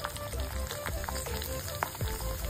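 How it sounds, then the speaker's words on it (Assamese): Small chopped onions fry in hot oil in a pan, giving a steady close sizzle and crackle that runs throughout, with no talking. "এইখিনি তেলতে মই সৰু সৰুকে কাটি থৈছিলো পিয়াজ দি দিছো"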